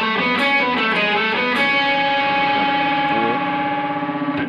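An electric guitar lick runs fast through distortion and echo effects, with unmuted strings left ringing into a dense, sustained wash. It plays loud and continuous for a few seconds, with no voice.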